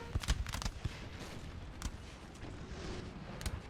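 Napoleonic-era artillery fire in a Total War battle game, a cluster of booming cannon shots early on followed by scattered, more distant reports over a continuous low battlefield rumble.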